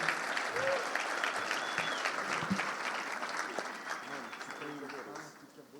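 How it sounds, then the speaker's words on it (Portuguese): Sustained applause from a church youth-service audience welcoming a bishop to the stage, dense and steady throughout with faint voices and cheers mixed in, tapering slightly near the end. "Então quero receber o Bispo Eric com uma salva de palmas honrando a Jesus pela vida dele."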